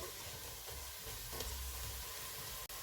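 Ginger garlic paste fries with onions in a pan for a kofta biryani, giving a steady, dense sizzle and hiss that holds evenly throughout with no talking.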